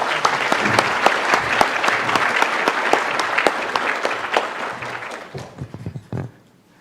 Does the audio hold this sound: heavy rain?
no